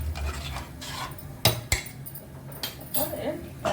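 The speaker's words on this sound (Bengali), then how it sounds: "এটা নেড়ে দেবো।" Metal spoon scraping and clinking against a pot while MDH sambar masala and chopped tomatoes are stirred in, a few sharp knocks among soft rubbing, close by.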